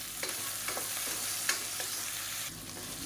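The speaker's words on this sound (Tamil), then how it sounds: "இப்போ முள்ளங்கி தக்காளி எல்லாமே நல்லா வதங்கிடுச்சு" Radish and tomatoes sautéing in a pan for a vegetarian mullangi kurma, giving a steady continuous sizzle with a few soft scrapes of stirring. There is no talk.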